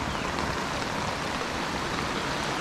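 Rain falls steadily in a rural village, a close, even hiss with no pauses and no voices.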